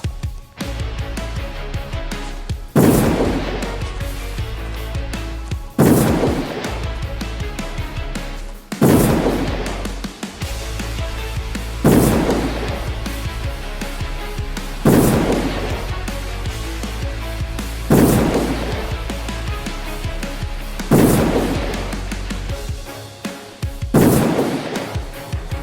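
Evil Lena fires spikes in a video game, producing a series of loud booming bursts at a steady pace, about every three seconds, over a continuous low musical drone.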